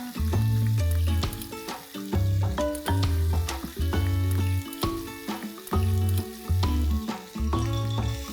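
Coarsely ground ginger and garlic fry in a pan for soyabean chilli, a loud close sizzle broken by repeated stirring scrapes in an uneven rhythm.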